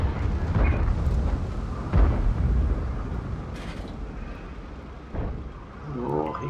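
Artillery shells explode in World of Tanks, with a T30 tank fighting in a tier 10 battle: heavy booming blasts and deep rumbling, loud and close at first, then fading into a steady low battle roar with a few sharper bursts.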